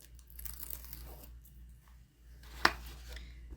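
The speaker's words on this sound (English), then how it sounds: "we're going to peel off the zipper tape backing, or peel off the double-sided tape backing." Backing strip peeled off double-sided tape on a zipper while sewing a tote bag, giving one sharp, close tearing rip over a low steady hum.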